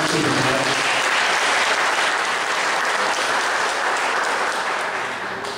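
A church congregation at a Catholic sermon breaks into loud, sustained applause that holds steady for several seconds before tapering slightly, with no voices over it.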